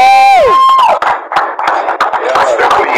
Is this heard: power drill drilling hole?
no